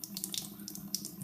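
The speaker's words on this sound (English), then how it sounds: "I've got my running stream of water here." A thin stream of water runs from a kitchen or bathroom faucet, a steady close splashing and trickling with small bright gurgles, alone without any voices.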